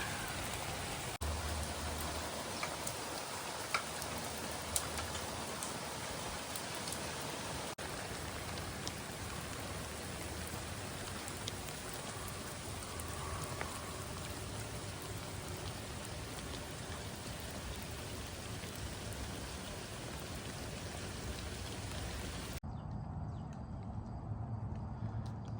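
Steady rain falling, a constant soft hiss with scattered drops, faint and unbroken for most of the stretch before cutting off.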